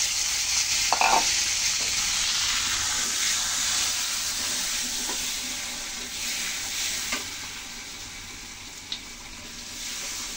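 Steady loud sizzle of chili powder frying in fish oil with potatoes in a pan, constant and close, with occasional stirring scrapes.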